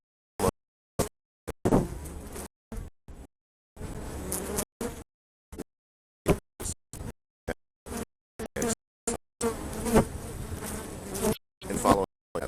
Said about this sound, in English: The bee is buzzing low ahead.